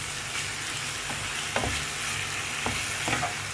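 Onions and meat fry in a pan with fresh tomato juice while a utensil stirs them, giving a continuous sizzle with a few soft knocks and scrapes spaced through it, near and clear, with no talk.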